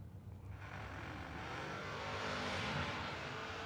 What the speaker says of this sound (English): Nice wheelie by Griffith, and he's got a start in his pocket. On down down the track they go.